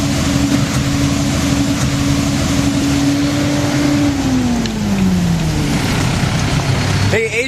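Walnut sweeper machine running in an orchard, a loud, steady engine drone with a constant hum that dips slightly in pitch partway through, close and filling the whole stretch.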